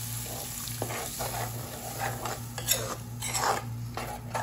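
Four beaten eggs sizzle in a hot pan while a spoon stirs and scrapes them repeatedly for egg bhurji, a constant frying hiss under clinking utensil strokes.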